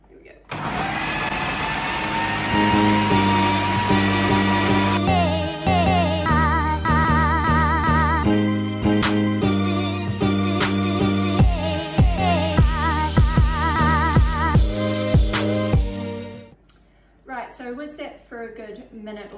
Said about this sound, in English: we want to whiz this well because we're going to create air in the egg whites